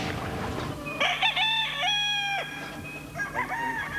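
Blue-bloodline gamefowl in a yard of about 120 birds, one rooster crowing loudly and nearby while other chickens cluck and call over a busy farmyard background.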